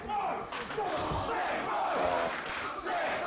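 Crowd at a wrestling match cheering and shouting, a roar of many voices heard somewhat distantly and at moderate level, with a few thuds and commentary-like voices mixed in.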